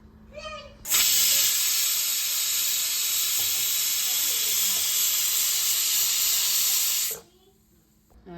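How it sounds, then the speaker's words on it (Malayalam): A pressure cooker of lentils releases a loud, steady jet of hissing steam that lasts about six seconds, starting and stopping abruptly, close by with quieter kitchen sounds before and after. "കുക്കർ അടച്ചു വെച്ച് 2 വിസിൽ വരുന്നതിനും വരെ അടച്ചു വെച്ച് വേവിക്കുക"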